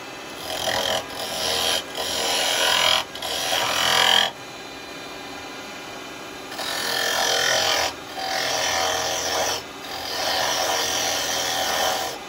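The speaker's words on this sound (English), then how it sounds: "I'm going to use the detail chisel" A detail chisel cutting yew wood on a spinning lathe gives a close, steady scraping hiss in several bursts of a second or more, separated by short pauses as the tool lifts off the live-edge yew pot.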